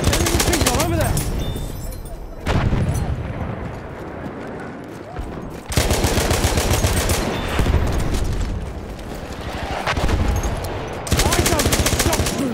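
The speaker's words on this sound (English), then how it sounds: "Enemy machine gun over there!" Battlefield 1 machine gun fire in rapid sustained bursts, loud and close, broken by short pauses, with battle noise and shouted voices mixed in.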